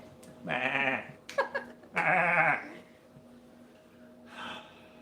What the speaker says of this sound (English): the sheep were loud